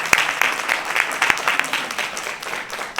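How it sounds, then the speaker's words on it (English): An audience at a beautification awards ceremony applauds volunteers, a steady wash of many hands clapping with a few sharper near claps standing out and some voices mixed in. "all of these people and you deserve a big round of applause"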